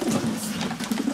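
Pigeons coo softly and steadily in a breeding loft, a low rolling murmur close by that continues throughout with no other sounds.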